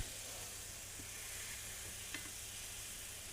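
Taco bowl filling sizzles quietly in a pan while being stirred, a soft steady crackle with a couple of faint scrapes, fairly low and with no talk.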